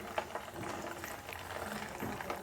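Soft, steady bubbling and sizzling of crispy fasting cutlets frying in hot oil, fairly faint and continuous, with no one speaking.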